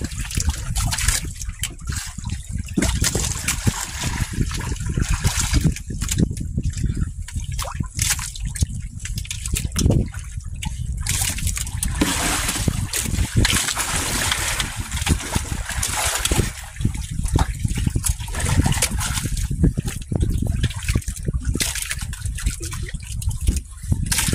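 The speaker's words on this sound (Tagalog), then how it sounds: "Alon-alon ulit." Water sloshes and laps continuously against a boat's hull, splashing irregularly and close by, with no one speaking.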